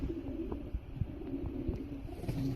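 Pigeons of a curly-feathered breed coo softly and repeatedly at close range in a loft, giving low rumbling calls over light rustling.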